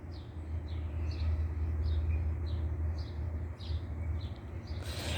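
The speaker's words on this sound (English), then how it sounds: "you can hear the birds in the background." A bird in a back garden near a state forest repeats a short chirping call about a dozen times in an even rhythm, moderately distant over a low background rumble.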